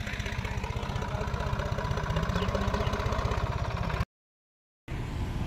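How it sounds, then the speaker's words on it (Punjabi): An Arjun 605 tractor engine runs close by in a steady, even chug at a constant pitch, cutting out briefly near the end before resuming. "ਟਰੈਕਟਰ ਅਰਜਣ ਵੀ ਆ ਗਿਆ।"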